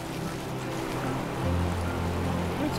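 A river runs as a steady, full wash of flowing water close by, continuous and even throughout with no talk over it.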